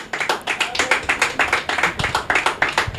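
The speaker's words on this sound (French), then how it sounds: "Est-ce qu'on peut applaudir?" A crowd applauds at a live show, rapid bursts of hand claps repeating steadily at close range for several seconds with no voices over them.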